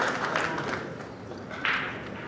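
A crowd at the 2025 Derby City Classic 9-ball match applauds Billy Thorpe winning a game, a short ripple of clapping at moderate distance that swells again near the end.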